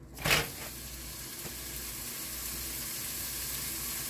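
80/20 ground beef hits a hot pan with a brief loud crackle, then settles into a steady, even sizzle and frying hiss that carries on alone.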